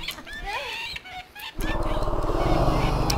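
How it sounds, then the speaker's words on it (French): A bird squawks and flaps as it attacks a character in The Sims Medieval, a medieval life-simulation game, with shrill cries early on giving way to a dense, rhythmic clucking and fluttering clamour that fills the second half. "Il se fait attaquer par un oiseau."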